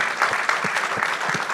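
An audience at a coaching convention applauds a panel, dense and continuous clapping from a large crowd heard at moderate distance throughout.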